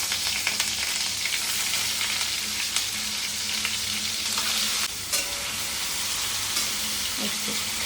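Paneer sizzles in ghee in a wok, a steady bright frying hiss with occasional scraping stirs and small crackles, close and continuous without talk.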